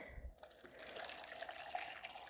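Hot water pours and trickles over tarnished metal drawer handles, a steady close-up splashing wash that runs unbroken for a couple of seconds with no voices.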